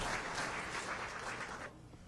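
A fire company anniversary gala crowd applauds the kitchen staff, a continuous wash of clapping that thins slightly toward the end of the short stretch.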